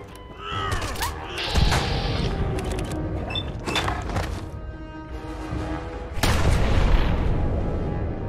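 Loud gunshots and booming blasts ring out in Fallout 4 combat, several sharp reports spread across a dense, chaotic mix with a harsh, cawing cry and heavy impacts.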